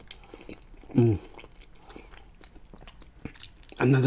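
Close mouth sounds of someone biting into a scallop in Alfredo sauce, soft wet chewing punctuated by two louder moments, with quiet smacking between them.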